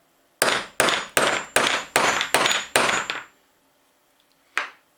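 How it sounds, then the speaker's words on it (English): A hammer strikes a metal stamp into a 1 oz silver bar seven times in quick, even succession, loud and sharp, followed by one final blow after a short pause. "basically just confidently hammer in your stamp"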